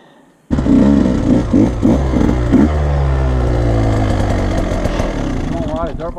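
A dirt bike engine kicks into life after a moment of quiet, blipping in several sharp revs before settling into a loud, steady idle close by, no one speaking over it.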